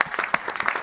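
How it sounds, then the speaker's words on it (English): A round of applause from an audience at a health-tech startup pitch event, brief and steady with dense overlapping claps. "I'd like to start with a bit of a round of applause for all the startups who are coming here tonight"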